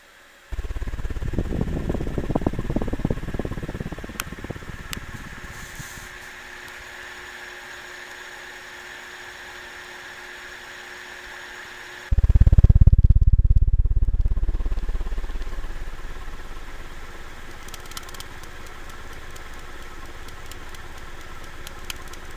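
A 1988 Nadair EL-1000 36-inch vintage fan runs steadily with a continuous whirring hum, then a louder surge around the middle that slowly eases back to a steady drone, with no voices.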